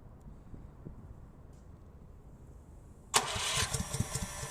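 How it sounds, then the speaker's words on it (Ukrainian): A Senci SC7000R generator started by remote control cranks and catches after a quiet stretch, then runs loudly and close with a steady engine roar. "знову запускаємо генератор з пульта, нажали ось пульт старт"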